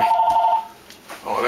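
An incoming phone call rings with a steady electronic tone for about half a second, then trails off into quieter room noise and faint rustling.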